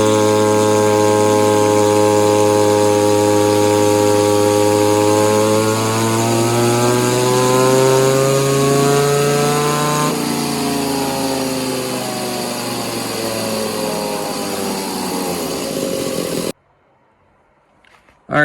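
An Echo 2511 clone chainsaw engine with an exhaust mod and advanced timing screams at full throttle on a dyno, its pitch climbing and then holding for a long sustained pull before cutting off abruptly into silence, with a brief sound at the very end.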